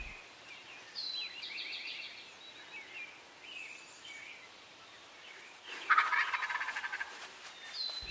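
A wild turkey tom gobbles at dawn in an open field, its calls carrying from a distance, then a louder, nearer burst of rapid rattling gobbles breaks out late in the stretch.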